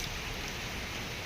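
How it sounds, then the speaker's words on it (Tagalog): Heavy rain falls among coconut and banana trees, a thick, continuous hiss of drops filling the brief moment evenly with no talk. "Medyo malakas-lakas na yung ulan."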